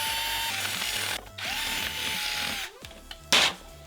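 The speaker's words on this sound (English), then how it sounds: "maybe I can just get it out with a drill now" A power drill whines in bursts while working on a door latch, spinning up and down in pitch between short pauses, close and loud, ending with a sharp rattle.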